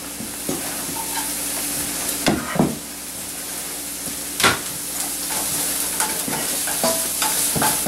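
Onion and garlic sizzle steadily in a frying pan, a constant close hiss of frying broken by a few louder scrapes and clinks of stirring.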